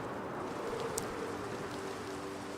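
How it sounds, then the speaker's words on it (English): Steady rain falling in Minecraft, a continuous even hiss with no pauses and a faint tick or two on top, with no voice heard. "It's raining. You can't control the weather in Minecraft or in real life"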